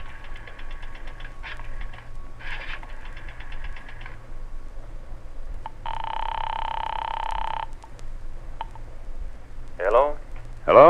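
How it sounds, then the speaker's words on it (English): Old-time radio drama effect of a drugstore payphone: a coin drops into the slot and a rotary dial turns in bursts, with a steady dial tone between, over a low hum, loud and close. "dropped a nickel in the slot, and dialed"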